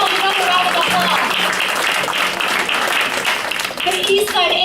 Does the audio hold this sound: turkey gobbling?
no